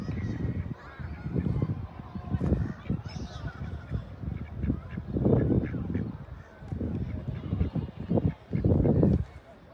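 Repeated honking quacks in uneven bursts, close and fairly loud, sounding like ducks or a person imitating them, with voices mixed in.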